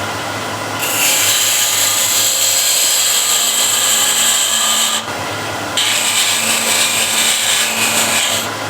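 A wood lathe turns a tenon into a wooden bowl blank, the tool cutting in a loud, steady scraping hiss in two long passes separated by a brief pause.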